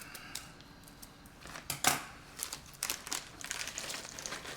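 Crinkling plastic and a few sharp snips sound close up, irregular and fairly quiet, as a bag is handled and cut.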